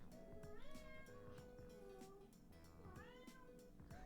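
Cats meow repeatedly indoors, giving a few drawn-out, rising and falling meows up close with short pauses between them over a faint background hum.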